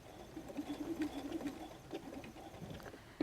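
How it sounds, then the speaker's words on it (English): A sewing machine runs a short, fast burst of stitching along a messenger bag seam, its needle whirring steadily for a couple of seconds and then stopping. "Now I'm going to stitch one more right up to that point."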